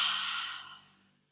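A long, deep exhale during calming yoga breathwork, soft and close, fading gradually to silence over about a second.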